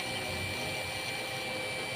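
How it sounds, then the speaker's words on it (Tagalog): HVAC vacuum pump running during a training demo: a steady, continuous motor drone with broadband hiss and a constant tonal whine, close and unchanging throughout. "So, start the vacuum."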